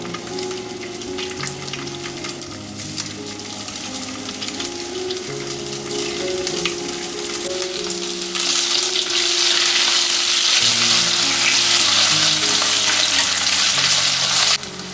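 Garlic cloves and cubed beef sizzling gently over low heat, with an even crackle that grows louder and brighter partway through, over background music.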